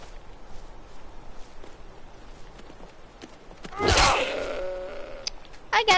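A goat bleats once, loud and close, in the Skyrim video game, over a faint bed of game ambience with soft footstep-like clicks and a short sharp sound at the end.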